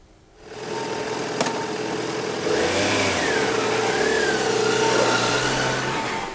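A racing motorbike engine idles, then revs up and down in several rising and falling bursts, loud and close with no talk.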